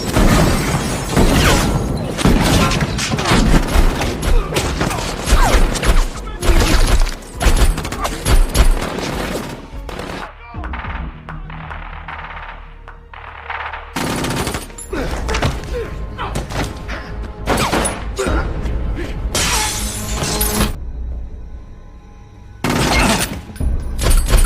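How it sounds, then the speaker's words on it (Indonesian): A gunfight from the film The Accountant erupts in loud, sharp shots, shattering and heavy thuds in dense bursts, broken by brief quieter gaps, with a voice narrating over parts of it. "Baku tembak pun terjadi."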